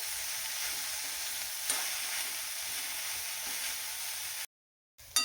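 Bitter gourd pieces sauté uncovered in a pan over a medium gas flame, giving a steady close sizzle with one brief stir, then a short silence and a clink.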